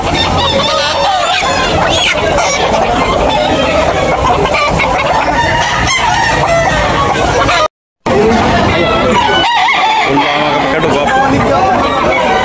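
Several roosters crow and hens cluck at a poultry market in Tabunok, Talisay, Cebu, over a noisy crowd babbling in the background, with a brief dropout partway through.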